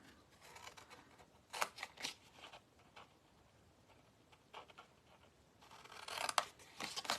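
Scissors cut paper panels for a treat box, quiet close snips in a few short clusters with soft rustling between them.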